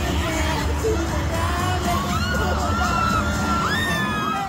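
Huge stadium crowd singing along with the performer at a concert in Singapore, a dense, loud, continuous roar of massed voices with scattered high whoops and shouts rising over it.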